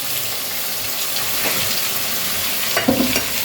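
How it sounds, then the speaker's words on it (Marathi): Fish sizzles steadily as it fries in a pan for a crisp fry, a continuous close hiss with a few soft clinks and stirring noises near the end. "मस्त दोन्ही बाजूने आता व्यवस्थित आपण फ्राय करून घेऊ."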